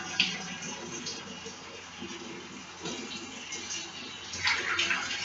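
Shower water runs in a continuous, even hiss and splash, close by and alone, with no voices.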